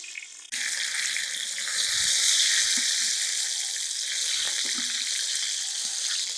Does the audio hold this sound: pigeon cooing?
no